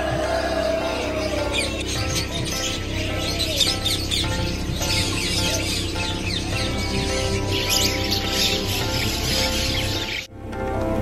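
Birds chirp and cluck in a dense, constant chorus at the bird market in Souq Waqif, Doha, with chickens and other caged birds calling over a busy, noisy background.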